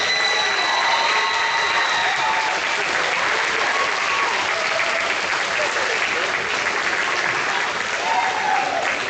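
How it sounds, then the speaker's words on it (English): Sustained applause from a large audience at a senior awards night ceremony, dense and steady throughout with cheering and shouts mixed in, loud and close. "Let's make sure to give them a round of applause."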